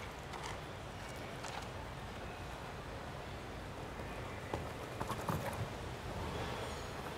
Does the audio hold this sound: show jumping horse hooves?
yes